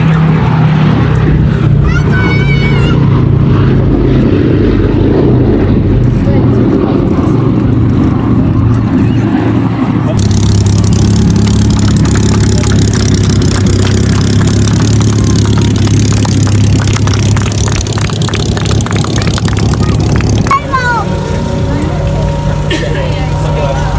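The B-17 bomber Sally B makes a pass at the Duxford airshow, a steady, droning rumble of piston engines that swells over the crowd, with an announcer speaking over it throughout.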